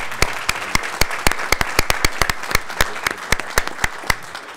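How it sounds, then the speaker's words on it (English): A room of people at a city council meeting gives the Chattanooga Fire Department a round of applause, a close, steady patter of many hands with sharp individual claps standing out throughout. "I think we should all give the Chattanooga Fire Department a huge round of applause."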